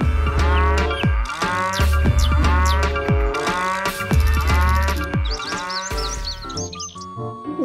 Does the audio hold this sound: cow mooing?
yes